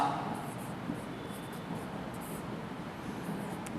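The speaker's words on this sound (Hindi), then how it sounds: "तो जैसे कि एक उदाहरण हम और लिखते हैं कि राज" Pen scratching across paper as a Hindi grammar example is written out, a steady soft scraping with faint strokes, no voice over it.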